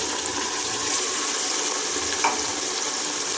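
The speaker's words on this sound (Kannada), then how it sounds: "ಆ್ಯಡ್ ಮಾಡಿ ಫ್ರೈ ಮಾಡಿ ಎಣ್ಣೆ ಉಟ್ಕೊಂಡ ತಕ್ಕ ಹಸಿ ವಾಸನೆ ಹೋಗೋ ತಕ್ಕ ಫ್ರೈ ಮಾಡಿ" Ginger garlic paste and ground masala fry in oil with a steady, bright sizzle, a continuous close hiss and an occasional faint stir, with no talking.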